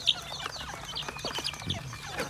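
Native Thai bantam chickens kept free-range at a home beside a forest cluck in a scattered, irregular rhythm, close by amid outdoor background noise.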